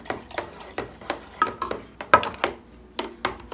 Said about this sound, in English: And stir that in.